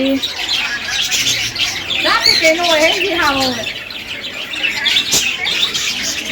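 Busy high bird chirping and chatter fills the background at a Mahadev temple in Rajkot while a voice speaks over it in the middle.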